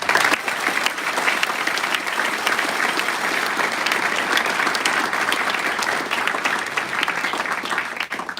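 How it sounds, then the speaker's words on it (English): Sustained, dense applause from a graduation audience at an Airman Leadership School ceremony, honoring attending family and friends, steady and loud from start to finish with no break. "can we get a big hand of applause for our family and friends that came out today, please?"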